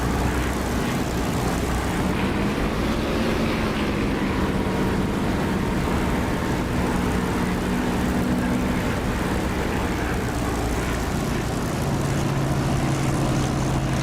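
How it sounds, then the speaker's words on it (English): A steady, loud aircraft engine roar in the DCS flight simulator during landing, with the sound swelling as it reflects off the runway and a droning hum throughout, no voices. "You'll hear the increase in sound because we're now getting reflected sound off the runway."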